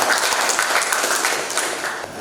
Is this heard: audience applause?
yes